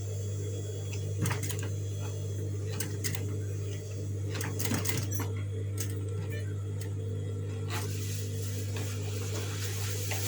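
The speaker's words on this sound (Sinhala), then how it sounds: "නැවත අනිත් පැත්තට හරවලා මහන්න" Sewing machine stitching the belt strap of a homemade fabric lunch bag, a steady mechanical tick-tock of needle strokes in short bursts, with a faint low hum underneath throughout.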